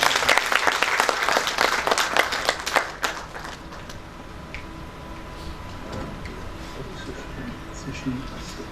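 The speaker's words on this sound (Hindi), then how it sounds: "आप उनका स्वागत करें जोरदार तालियों के साथ में।" Loud applause from a seminar audience welcoming a speaker at a tribal literature event, dense clapping for about three seconds before dropping to scattered claps and room murmur.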